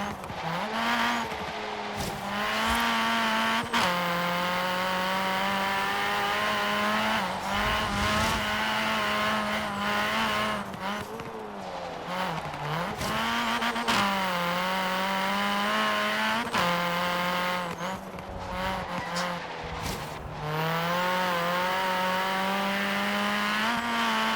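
A Mini Cooper S (F56) is pushed hard in the racing game Forza Horizon 3. A loud, continuous engine drone climbs and drops in pitch through repeated gear shifts, with occasional tire scrub, and no talking.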